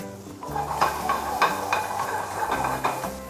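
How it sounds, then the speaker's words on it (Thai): Broccoli and blanched baby corn stir-fried in a pan, with a steady sizzle under repeated scraping, stirring strokes of a utensil against the metal, close and moderately loud, no voices. "อันนี้ไม่ต้องผัดนานหลังจากเราใส่บรอกโคลี"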